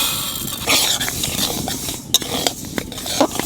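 Moong dal, about 250 grams, dry-roasting in a pan for khichuri, with a spatula scraping and stirring against the metal in irregular clinks and scrapes. A soft, steady sizzle-like hiss runs underneath throughout.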